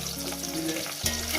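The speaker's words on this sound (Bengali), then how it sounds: "আলুগুলো আমি 4-5 মিনিট ধরে ভেজে নেবো বন্ধুরা" Potatoes fry in hot oil with a continuous sizzle, joined by a brief clatter partway through, with no one talking.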